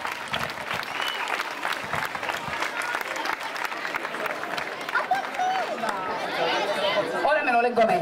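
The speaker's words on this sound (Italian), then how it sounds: "Un applauso!" Audience applause at a village song festival prize announcement, continuous crowd clapping mixed with chatter and voices, growing busier toward the end.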